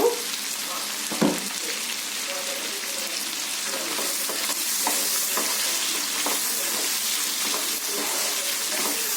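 Turmeric and salt stirred into ivy gourd curry in a pan, a steady broadband sizzle running throughout with occasional spoon scrapes, including a sharp knock near the start.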